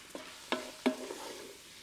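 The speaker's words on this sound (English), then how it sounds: "Give this a nice little stir around." Quinoa and grits being stirred in a pot, heard as a few brief scraping strokes spaced apart, soft and close, with no talking.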